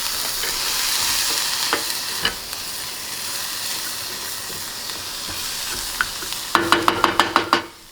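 Lentil loaf mixture bubbles and sizzles in a pan over low heat, a steady soft crackle with occasional stirring scrapes, and a quick run of sharper pops near the end.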